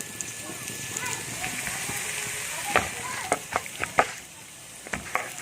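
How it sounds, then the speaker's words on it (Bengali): Raw green banana slices fry in shallow oil with spices, a continuous crackling sizzle that grows busier midway with sharp pops and spatters, heard up close with some talking in the background. "এগুলো আমি তেলের মধ্যে ফ্রাই করতে দিয়ে দেবো, হালকা তেলের মধ্যে।"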